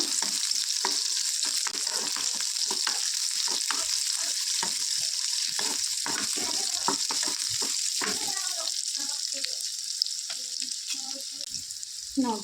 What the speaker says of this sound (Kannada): ಒಂದು ಚಾಪ್ ಮಾಡ್ಕೊಂಡಿರೋ ಈರುಳ್ಳಿನ ಹಾಕ್ಕೋತೀನಿ ಚೆನ್ನಾಗಿ ಗೋಲ್ಡನ್ ಕಲರ್ ಬರೋವರೆಗೂ ಫ್ರೈ ಮಾಡ್ಕೋಬೇಕು